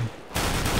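A FAMAS rifle from a StatTrak skin in Counter-Strike: Global Offensive fires a short, loud burst of rapid shots right after a brief quiet moment.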